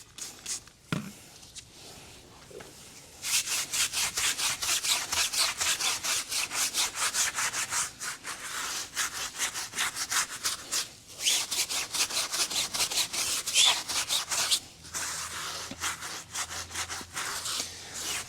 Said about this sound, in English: So this side I'm just going to scrub.